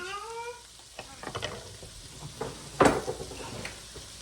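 Food sizzles and is stirred in a pan just before cabbage goes in, with a soft frying hiss throughout, a few scraping utensil strokes, and one louder clatter partway through.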